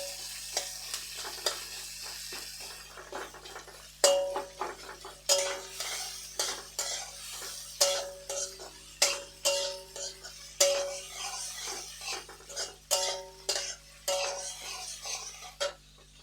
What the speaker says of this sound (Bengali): একটু ব্রাউন কালার করে ভেজে নেব এগুলো